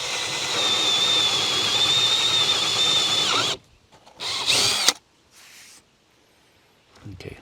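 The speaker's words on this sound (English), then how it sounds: "I want to drill one at each side so I can flip it over and draw a line." Power drill boring holes into a countertop during a tiny-house sink installation, a loud steady whine for several seconds, then brief shorter bursts amid quiet pauses.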